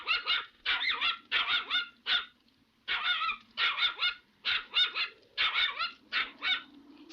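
Belle, a dog in the 1980 TV series Belle et Sébastien, barks loudly and close in rapid repeated bursts, several barks in quick succession with brief pauses, continuing through the whole stretch.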